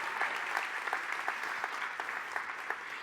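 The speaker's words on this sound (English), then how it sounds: "if we could give Mike a huge round of applause to say thank you so much" A church audience gives steady, moderately distant applause, a dense wash of many hands clapping at an even level throughout, in thanks to a man named Mike.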